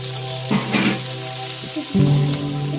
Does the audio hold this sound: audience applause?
no